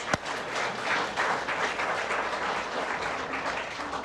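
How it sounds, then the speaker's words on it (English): Audience applause at a UCLA alumni business ceremony, a steady wash of many hands clapping that holds for about four seconds at an even, fairly loud level, with no voices over it. "let's give yourselves another round of applause."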